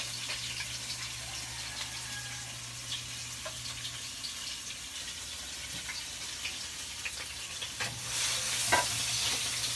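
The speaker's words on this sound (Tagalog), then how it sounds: "So, panggisa natin. So, hindi natin lalagyan ng sibuyas, bawang lang." Garlic alone, without onion, sautés in oil in a pan for chili chicken wings: a faint, steady sizzle with occasional soft stirring scrapes, swelling a little louder toward the end.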